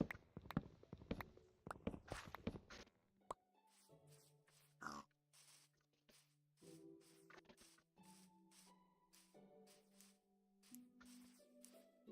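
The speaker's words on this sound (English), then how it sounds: "Lots of pigs." Several pigs in Minecraft grunt and oink in short separate bursts near a birch forest, with soft footsteps and squishy patter between them and quiet stretches in between.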